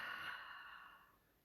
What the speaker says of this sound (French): On prend le temps aussi de bien respirer.